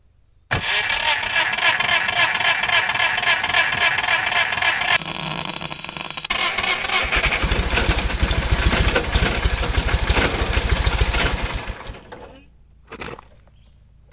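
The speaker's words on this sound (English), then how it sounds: "it's the first time that engine's made a noise in a long time" A John Deere 318 lawn tractor engine, long unused and with electrical problems, cranks and catches, then runs loud and close with an uneven rough roar for several seconds before shutting down, leaving quiet with a brief knock.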